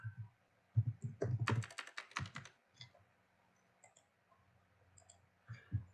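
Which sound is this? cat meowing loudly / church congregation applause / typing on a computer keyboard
typing on a computer keyboard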